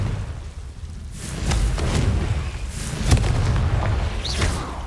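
A Confringo blasting spell goes off in Hogwarts Legacy, producing a deep rumbling boom with crackling debris that swells and lingers for a few seconds.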